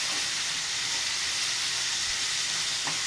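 Chopped ivy gourd frying in a pan over a low flame, giving a steady, close, hissing sizzle that holds evenly throughout with no talk.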